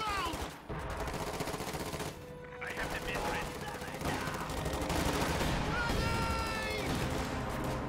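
A DP-28 machine gun fires repeated bursts in a World War II strategy video game, the rapid gunfire layered over dense background battle noise and tones throughout.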